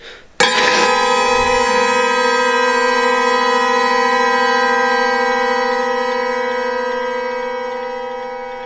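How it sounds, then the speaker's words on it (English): A single bell stroke rings out in a stage production of Macbeth, struck loud and close, its rich overtones holding and slowly decaying over several seconds with nothing else heard. "The bell invites me."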